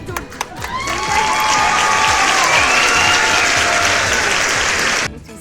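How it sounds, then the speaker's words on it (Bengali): A small audience claps loudly and continuously for about five seconds at a lively game-and-chat gathering, the applause swelling quickly and then cutting off abruptly. "আরে হাততালি দাও।"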